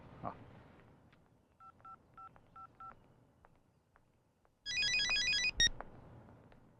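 A telephone being dialed: short clusters of keypad tones beep in quick succession, first a small group, then a louder, denser run of tones later on, with only faint room noise between them.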